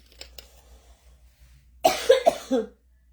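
Dry coughing from a person with a tickle in the throat: a few harsh coughs close by, preceded by faint scattered sounds and quiet.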